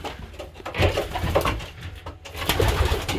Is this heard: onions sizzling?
no